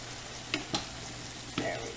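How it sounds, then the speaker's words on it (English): Creamy Angus meatballs with peas stirred in a pan, a low, quiet sizzle broken by three brief scrapes of the utensil, with no voice over it. "we're going to give the creamy meatballs a stir"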